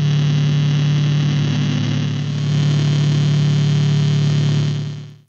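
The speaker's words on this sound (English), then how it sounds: "The shoegaze sound can be defined by visceral noise, which in itself is comprised of layers of distortion" Shoegaze guitar noise built from thick layers of distortion, a dense, loud, sustained wall of droning tone that holds steady and then cuts off, with no voices.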